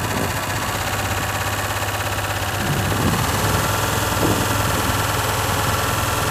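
Citroën Méhari engine, being reassembled after heavy wear and running with a faulty lambda sensor, revved gently: a rough, steady mechanical drone with a slight lift in intensity partway through, close and continuous with no voices.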